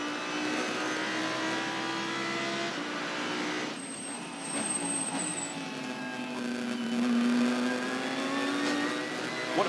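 Onboard a GT race car at Bathurst during a GT World Challenge Australia race, the engine drones loudly then drops as the driver brakes, before climbing again under acceleration, steady and close throughout.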